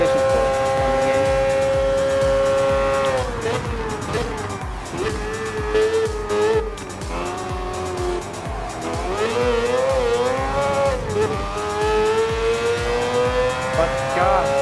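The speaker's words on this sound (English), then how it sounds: "But gosh, that engine sound is very realistic." A Mazda 787B rotary race car engine in the video game Gran Turismo Sport revs and shifts through rising and falling pitches, with tire squeals and skids mixed in, loud and continuous.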